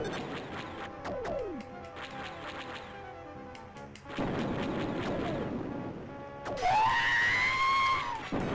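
Proton torpedoes fire and explode in the Star Wars Arcade game on the Sega 32X: falling laser-like sweeps, a sudden loud broadband blast midway, then a rising synthetic wail amid continuous busy game sound effects.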